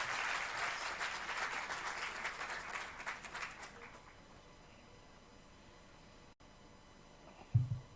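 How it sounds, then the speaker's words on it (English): Audience applause at a seminar, a dense burst of clapping that fades out after about four seconds into quiet room tone, followed by a short thump. "give them all a wild round of applause"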